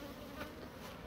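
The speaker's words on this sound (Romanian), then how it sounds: "Măi, ce mă atac albinele." Honeybees buzz densely around a beekeeper at an apiary where robbing is going on, a steady, close, continuous hum filling the whole moment with no voices.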